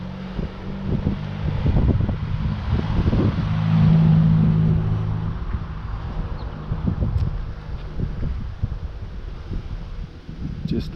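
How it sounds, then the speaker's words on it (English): A breeze buffets the microphone outdoors, giving steady low rumbling gusts with soft rustle that swell slightly midway and persist throughout, with no voices present. "And you may be getting some wind noise in there, which is a very nice breeze for me."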